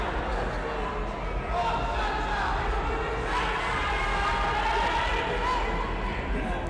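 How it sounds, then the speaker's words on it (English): A wrestling crowd at an outdoor show chants steadily for Cha-Cha, a dense, sustained roar of voices with rhythmic surges and thumps from the ring beneath. "And you can hear the crowd chanting for Cha-Cha."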